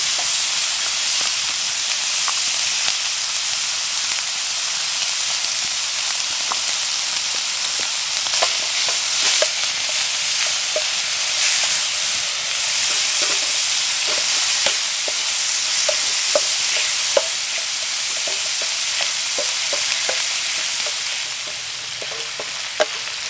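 Bacon sizzles in butter in a pan on a camp stove outdoors during an autumn forest hike, a steady, loud, close hiss sprinkled with small crackles and pops, with no talking.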